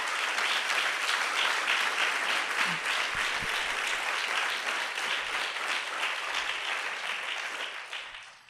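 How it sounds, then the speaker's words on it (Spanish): Congregation applause at an evangelical church service, dense steady clapping from many hands filling the room at close range, continuing unbroken for several seconds before tapering off. "Dale un aplauso al Señor."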